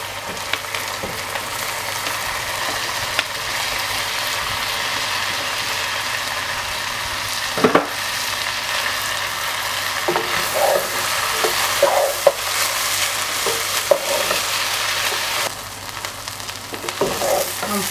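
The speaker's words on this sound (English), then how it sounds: "I'm frying the rice." Boiled, rinsed rice frying in a pan with carrots and tomatoes crackles in a steady close sizzle, broken by repeated scrapes and clacks of stirring.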